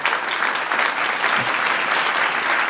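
An audience at the DéClics Numériques digital event in Gironde applauds, a dense, steady, loud clapping that holds for the whole stretch with no voices over it.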